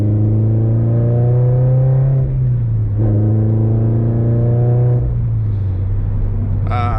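Toyota 86 fitted with an FT86SpeedFactory catted unequal-length header, its exhaust burbling loud and steady from a first-person ride, engine note rising and easing with throttle changes and shifts around the two- and five-second marks.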